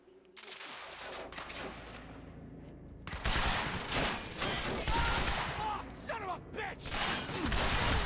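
Automatic gunfire in the shooter video game Quantum Break, rapid bursts of shots in clusters with mechanical clatter and impacts, moderately loud, with a voice talking in places.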